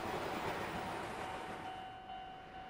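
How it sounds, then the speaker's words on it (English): In a video game, a train rushes in and strikes the player, heard as a loud, dense rumbling rush with a faint horn-like tone that fades out over a few seconds. "And then you're hit by a train."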